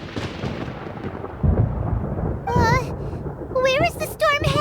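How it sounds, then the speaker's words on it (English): Thunder rumbles in the video game Genshin Impact as a deep boom rolls under a child-like voice, with further excited voices and music-like tones rising after it. "Paimon hears thunder!"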